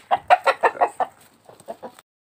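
Several roosters ganging up on one rooster in a fight give a close, loud series of about six sharp clucking squawks, then a brief pause and a few softer ones.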